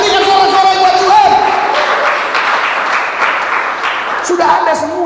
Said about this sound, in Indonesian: Haleluya, berikan sorak-sorai buat Tuhan.